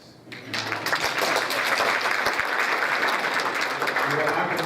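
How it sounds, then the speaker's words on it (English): An audience at a talk on addiction treatment breaks into applause, a loud, dense clapping that swells in quickly and carries steadily to the end. "You all can clap for us."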